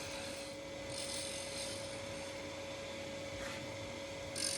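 Quiet, continuous scraping of a tool against a wooden yo-yo spinning on a lathe as its edges are rounded, with a steady motor hum beneath soft rasping passes.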